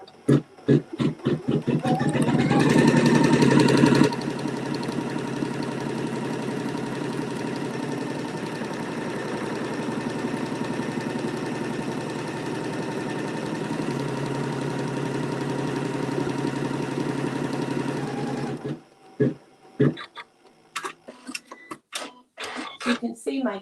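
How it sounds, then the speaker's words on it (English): Embroidery sewing machine stitching a placement line on fabric for a holiday topper, a steady mechanical whirr running for about fifteen seconds, fairly loud and close, with a brief louder burst at the start and a few clicks and knocks after it stops. "I'm going to stitch my placement stitch, and this will show me where to place my fabric."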